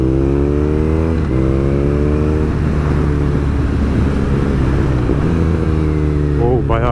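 A BMW R nineT two-cylinder motorcycle engine drones and revs steadily while riding, its pitch dipping and rising through gear changes, with a voice briefly talking over it.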